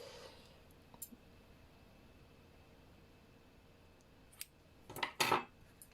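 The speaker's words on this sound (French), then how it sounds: "Je coupe le fil avec un peu de longueur." Scissors snip crochet yarn while a koala amigurumi plant pot is being made: a faint tick early on, then a short burst of metallic clicks and one crisp, close cut near the end in a quiet room.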